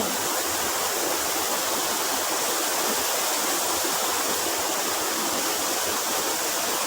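A waterfall at Tham Lek, Thailand, roars steadily and loudly, a dense unbroken rush of falling water with no pauses or voices.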